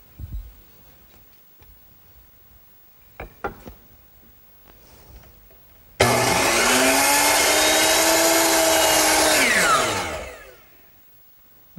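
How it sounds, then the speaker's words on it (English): A power miter saw in a woodworking shop cuts wood square, starting abruptly after some quiet handling knocks, holding a loud steady whine for about four seconds, then winding down. "Now the cut will be 90 degrees to this face, and I'll make it at the miter box."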